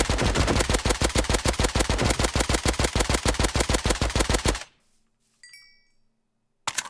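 Rapid automatic gunfire from a modded gun in Minecraft, a fast, even burst of loud, close shots lasting several seconds, then an abrupt stop, a faint mechanical click and a short final blast.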